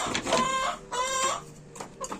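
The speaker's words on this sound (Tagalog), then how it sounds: "Patukoy pa natin yung iba mga manok." Hens cluck and call loudly nearby in repeated bursts, with quicker tapping sounds of pecking at feed between them.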